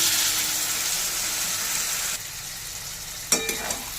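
Water poured into a pan of frying soyabean curry, a loud steady hiss that abruptly drops to a softer simmer, followed by a few clanks of a utensil against the pan.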